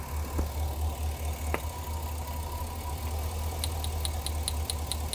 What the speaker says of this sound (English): Engine's firing just fine